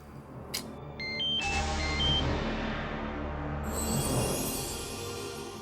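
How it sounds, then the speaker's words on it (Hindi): A mobile phone rings indoors in a family drama scene, a short electronic ringtone of rising beeps followed by a sustained musical tone with a bright shimmer, fairly loud and close with no talk over it. "तुम्हारा फोन बज रहा है"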